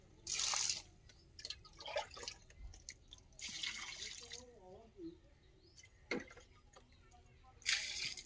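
Water being poured on young eggplant and spinach seedlings in a garden bed, with splashing and dripping bursts that come and go, birds faint in the background.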